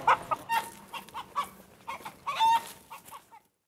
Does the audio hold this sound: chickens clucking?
yes